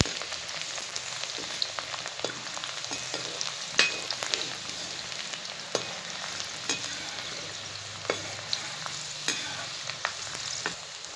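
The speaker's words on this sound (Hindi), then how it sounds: "लहसुन हल्का रेड हो जाएगी तो फिर डालेंगे प्याज।" Chopped onion frying in oil with garlic as potato bonda is cooked at home, a continuous sizzle broken by scraping stirring strokes and sharp pops, moderately quiet and close, no voices.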